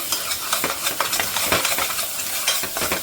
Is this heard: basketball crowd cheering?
no